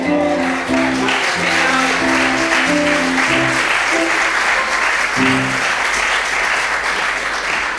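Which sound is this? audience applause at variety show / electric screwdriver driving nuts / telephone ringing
audience applause at variety show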